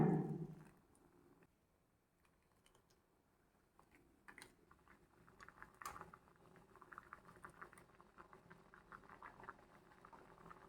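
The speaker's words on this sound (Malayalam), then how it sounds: "കറി ഒന്ന് തിളപ്പിക്കണം." Ridge gourd curry comes to a boil in a pot, giving a faint, soft patter of small bubbles that builds gradually and continues quietly throughout, with no one speaking.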